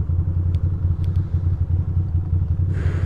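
Ducati motorcycle engine rumbling steadily while riding, a continuous low drone close to the rider with a brief rise in wind or road noise near the end, no voices.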